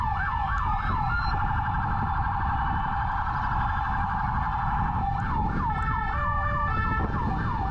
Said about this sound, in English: Yeah, you can hear the American sirens.